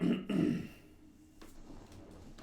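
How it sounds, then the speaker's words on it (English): A person clears their throat in two short rough bursts close to the mic, followed by quieter faint background noise. "Clear my throat."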